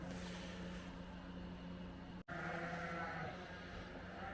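Ram lambs on a farm on weaning day bleat faintly at a distance in a few overlapping calls, heard alone without talk.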